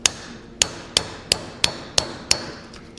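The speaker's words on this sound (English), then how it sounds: "usually just come in here with a chisel and you can crack it" A hammer strikes a chisel seven times at a steady pace to crack a wheel bearing race on a Chevy Nova, each blow a sharp, close metallic clang.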